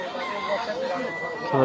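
Chickens cluck and crow close by amid a busy background murmur at a livestock market in Mymensingh, a brief burst of fowl calls.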